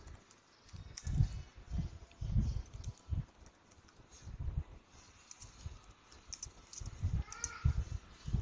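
Typing on a computer keyboard while filling in a reading record online, with irregular clusters of soft, close key clicks and brief pauses between bursts, no talking.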